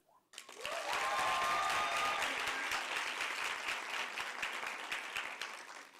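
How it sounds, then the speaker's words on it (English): An audience at a women in media and communications event breaks into loud, sustained applause after a short pause, dense clapping that holds steady then eases slightly toward the end. "And another big round of applause to Ms. Lizelle Self."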